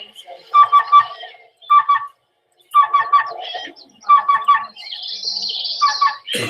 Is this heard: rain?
no